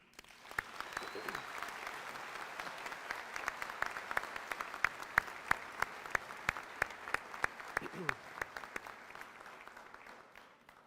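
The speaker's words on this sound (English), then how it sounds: "Please join me in a round of applause for the entire staff here at Training Center, Cape May" A ceremony crowd at the Coast Guard's Training Center Cape May gives a round of applause for the staff. The moderate, distant clapping has sharp individual claps standing out, and faint voices sound underneath.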